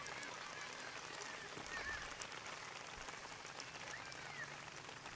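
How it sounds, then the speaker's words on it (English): Steady rain pours down at an outdoor 10-and-under girls' softball game in Westby, a constant broadband hiss of drops on surfaces filling the whole stretch with no speech over it. "The rain coming down, and I've taken the camera off the tripod."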